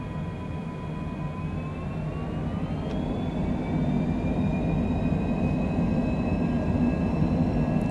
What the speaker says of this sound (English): I'm going to hand fly this takeoff.